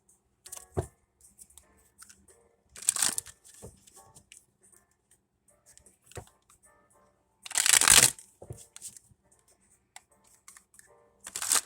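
Tarot cards being shuffled and handled, close, with several short riffling bursts and one longer loud flurry amid quiet pauses and soft card taps.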